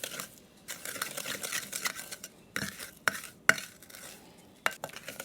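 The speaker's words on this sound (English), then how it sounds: "So I'm going to beat this together until it's nice and light." Butter and sugar being beaten together by hand in a bowl, with soft rhythmic scraping and stirring and occasional sharp clinks of the utensil against the bowl, close and fairly quiet.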